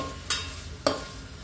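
Already-cooked mutton being stirred and tossed in a pan for biryani: two short, sharp scraping clatters about half a second apart over a quiet kitchen background.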